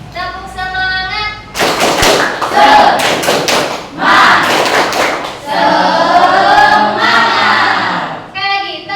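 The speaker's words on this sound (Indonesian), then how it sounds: "Tepuk semangat." A standing school class does a rhythmic spirit clap, with bursts of quick group claps and thumps between chanted voices, close and loud in a classroom.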